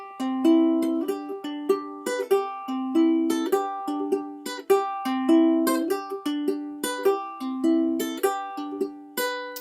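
Plucked acoustic guitar strings play a repeating fingerpicked pattern, each note ringing clearly and decaying in an even, steady rhythm with no voices.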